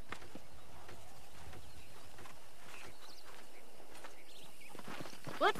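Horse hooves clip-clopping on a ranch in the Western video game Red Dead Redemption, a faint, uneven patter of steps over a constant outdoor ambience.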